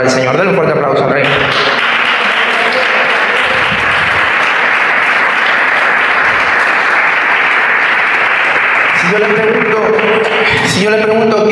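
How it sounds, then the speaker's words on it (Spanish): A church congregation breaks into loud, sustained applause that fills the room for about nine seconds, then fades into a preacher speaking. "Denle un fuerte aplauso al Rey."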